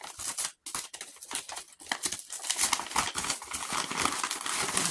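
Rapid crisp snipping and crinkling of scissors cutting through tape, close by, in irregular bursts with no talking.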